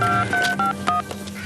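A vintage Italian Sirio telephone being dialed, producing a quick sequence of short dual-tone beeps, close and clear, with faint room noise beneath.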